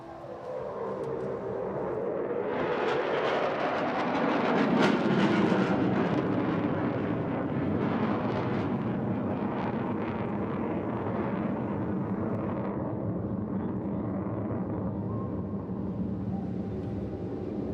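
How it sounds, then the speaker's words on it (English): A Royal Air Force Typhoon jet climbs straight up at an air festival, a loud sustained roar that swells over several seconds and then slowly thins as it recedes, with no voices. "point it directly to the sky with a memorable departure, looking right up the tailpipe of this extraordinary aircraft"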